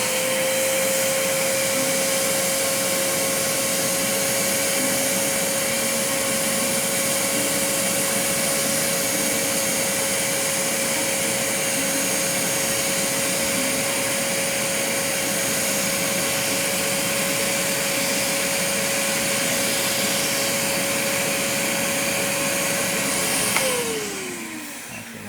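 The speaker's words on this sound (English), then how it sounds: "Vinyl vac on, vacuum on." A vinyl record cleaning vacuum runs with a steady, loud motorized whine unbroken for about twenty-five seconds, then its pitch drops as the motor winds down.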